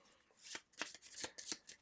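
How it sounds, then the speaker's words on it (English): A few playing cards are shuffled up close, a quick run of soft riffling bursts in an uneven rhythm, quiet and without talk. "Then we're going to shuffle these 2 cards"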